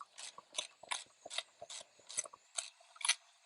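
A hand ratchet clicks in quick repeated bursts as it snugs up the rear bumper bolts on a 1967 Lincoln, about eight close, steady strokes with sharp metallic ticking and no talk.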